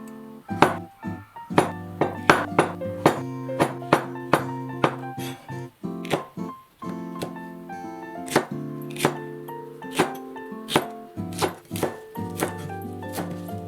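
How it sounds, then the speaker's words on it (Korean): A knife dicing avocado and chopping celery and arugula for a salmon poke salad, with sharp irregular chops striking a board one after another, close and clear, with no talk. "아보카도는 껍질을 벗겨서 깍둑 썰고 샐러리와 누꼴라도 먹기 좋은 크기로 썰어줘"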